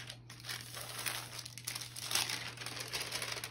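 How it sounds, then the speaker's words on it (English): Parchment paper crinkling and rustling as it is laid flat over a decoupage piece ready for ironing, a continuous close crackle over a low steady hum. "I'm going to put the parchment paper on top of it."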